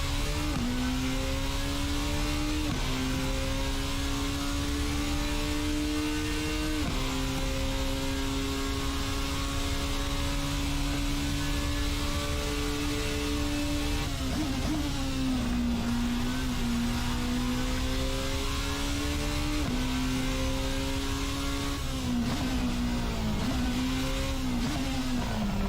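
Race car engine in a racing video game holds a loud, sustained high-pitched whine that climbs steadily through the gears, with brief drops at each shift and no talking over it.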